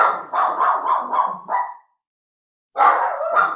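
Dogs bark loudly and close by in a rapid string of yaps, stop for about a second of silence, then burst into another run of barks.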